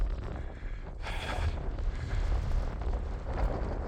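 Cold wind blows steadily across the Wadi Rum desert in Jordan, buffeting the microphone with a constant low roar and gusty surges and no voices.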